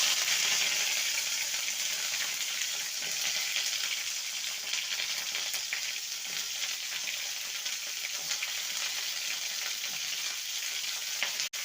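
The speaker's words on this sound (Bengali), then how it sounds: "এবারে উচ্ছেকে ভেজে নেব।" Bitter gourd pieces frying in oil in a pan, a continuous close sizzle with faint crackles and occasional stirring, no speech.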